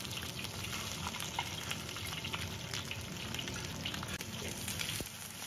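A whole carp with its scales left on fries in oil after being flipped, a quiet, continuous crackling sizzle with scattered small pops.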